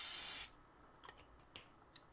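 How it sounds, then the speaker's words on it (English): A short burst of cooking spray hisses into a cake pan for about half a second and then stops, followed by a few faint light taps and rubs nearby. "I'm just going to spray it with a little bit of cooking spray"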